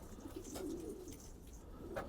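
Fancy pigeons coo softly in a loft, low throaty murmurs recurring through the stretch, faint and close with no talking.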